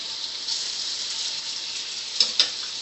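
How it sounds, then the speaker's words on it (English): Steady, bright sizzling of shrimp frying in a crowded hot pan, continuous and close, with a couple of small sharp pops near the end. "Make sure you keep hearing that sizzle."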